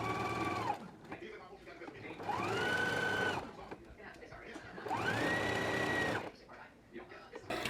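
A home sewing machine stitches the side seams of a McCall's 7831 jumper in two long, steady runs that spin up and wind down, with a short pause between them.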